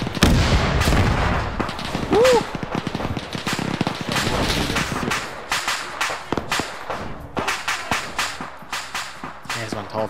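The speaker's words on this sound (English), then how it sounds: "Ich werde beschossen!" Gunfire rattles through a World War II video game battle as German forces defend against a Soviet assault: dense, rapid shots and sharp cracks, some close and loud, with a voice briefly whooping between bursts.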